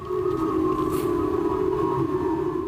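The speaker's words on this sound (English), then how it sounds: "An air raid siren in northern Japan's Hokkaido island," A loud, steady air raid siren in Hokkaido, Japan, warning of a North Korean ballistic missile launch, wails continuously at a sustained pitch, filling the whole stretch with no voices.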